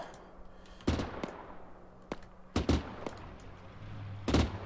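Gunfire in Arma 3: scattered sharp shots come in bursts, a few single cracks then tight doublets and a final loud burst, fairly close against a quiet background.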